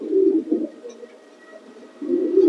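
A pigeon in a loft coos close by in low, throaty bursts, two rolling phrases at the start and another at the end, with a quieter gap between and no talking.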